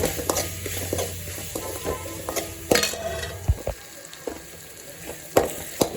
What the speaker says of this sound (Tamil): இது நல்லா அளவுக்கு நல்லா வதக்கணும்